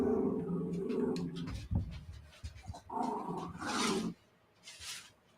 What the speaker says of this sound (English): This dog is going to piss me off so much.